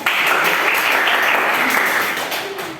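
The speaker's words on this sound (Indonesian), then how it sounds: "tepuk tangan untuk kalian" A class of students claps in a school lesson, a thick burst of many small hands applauding together, loud and close, tapering off slightly toward the end.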